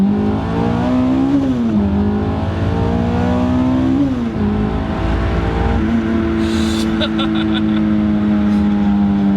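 Supercharged Honda S2000 engine revving up and then accelerating hard from a rolling start, a loud close tone that rises in pitch through several gear changes, with supercharger whine on top.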